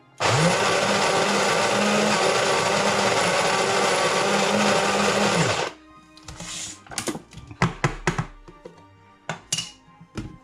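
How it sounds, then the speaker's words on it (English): A burr grinder grinding coffee beans gives a loud, steady whir for about five seconds, then stops abruptly, followed by scattered clicks and light clatter. "A decent burr grinder is good."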